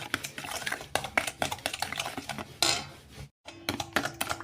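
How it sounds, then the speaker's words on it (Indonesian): Eggs beaten with sugar and salt in a bowl, a steady run of quick scraping, clinking strokes with a short pause near the end, close and alone. "campur telur dengan gula pasir dan garamnya. Lalu ini kita kocok lepas sampai tercampur rata."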